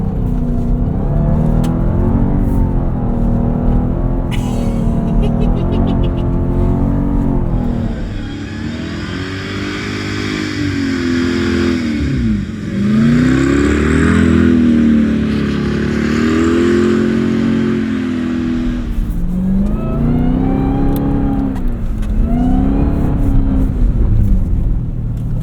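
A 2026 Dodge Durango SRT Hellcat Jailbreak AWD with a 710 hp engine revs and roars continuously while driving through snow on a rally course, its loud engine note rising and falling close by as speed changes.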